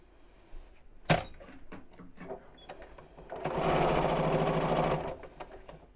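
A few soft clicks and handling knocks come before a sewing machine stitches a fabric zipped biscornu pouch in one steady close burst of about two seconds, then it stops.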